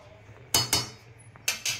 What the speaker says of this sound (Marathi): तर आता मी झाकण ठेवून शिजवून घेते